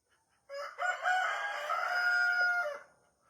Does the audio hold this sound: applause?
no